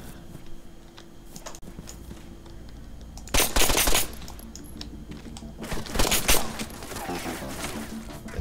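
Gunfire in the ArmA 3 military shooter game: two loud bursts of rapid automatic fire a few seconds apart, with scattered single cracks and a low background hum between them.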